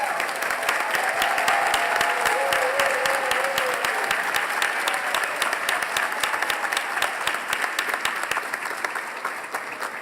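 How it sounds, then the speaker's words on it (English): Dense audience applause for young artists at the opening of a city-wide art festival, a steady wash of many hands clapping that fills the whole stretch and eases off slightly toward the end. "Young artists, please stand and be applauded for your outstanding creative accomplishments that we are celebrating today."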